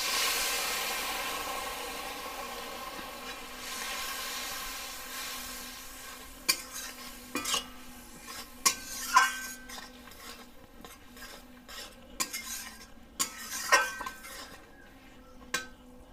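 Spice paste for a fish curry fries in a pan while being stirred, with a soft hiss that fades under sharp, irregular scrapes and clinks of a utensil against the metal, with no talk.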